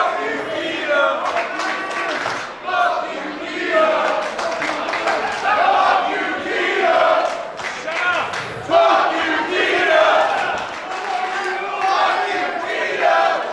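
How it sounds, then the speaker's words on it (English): Dense, loud crowd at a live professional wrestling event, chanting and shouting in overlapping waves that build and swell throughout, with no clear gaps and scattered cheers rising above the roar. "when the crowd is talking like this"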